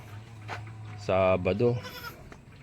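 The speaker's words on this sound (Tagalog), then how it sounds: "ilalabas ko pa yung kambing pala" A goat at a backyard farm gives one loud, close, wavering bleat in the middle of the clip, with a person talking faintly before and after it.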